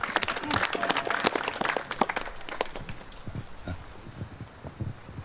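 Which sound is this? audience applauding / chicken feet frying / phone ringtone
audience applauding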